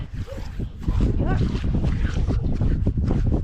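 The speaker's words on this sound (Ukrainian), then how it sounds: "А ну ще як назло вітер" Strong wind gusts buffet the microphone outdoors during tree whitewashing, with a low rumbling roar, alongside scattered bumps and faint background sounds.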